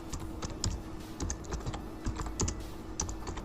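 Text is typed on a computer keyboard in steady, fairly quick bursts of close clicking keystrokes over a faint background hum, with no one speaking.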